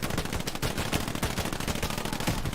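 Dense, continuous automatic and rifle fire from a firing squad in the World War II shooter Hell Let Loose, loud rapid overlapping shots crackling without a break throughout, no talking.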